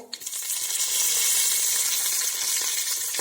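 Urad dal and curry leaves sizzle in hot oil for tempering, a loud, steady, bright crackling hiss that carries on alone without a break.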